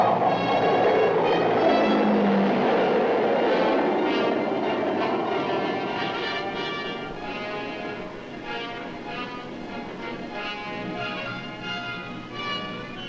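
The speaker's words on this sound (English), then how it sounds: "the giant planes airlift men and equipment back to the United States safely and on schedule" Loud, sustained roar of large military transport aircraft engines with a droning whine, gradually easing off in level over time.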